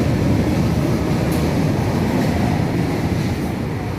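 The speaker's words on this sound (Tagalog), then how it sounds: "Ayun yung train sinakyan ko, alis." A commuter train pulls away from a station in Manila, making a steady, loud, close rumble of wheels and carriages that fills the whole stretch and eases slightly toward the end.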